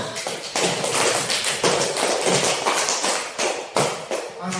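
A group of teacher trainees clapping hands in unison during an Indonesian training session, loud rhythmic claps in quick bursts with short pauses between them.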